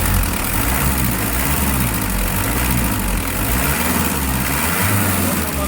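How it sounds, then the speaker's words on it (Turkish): A Hyundai H100 van engine idles close by, a steady, loud, low rumble that holds an even pace from start to finish. "10 numara oldu motor sesine."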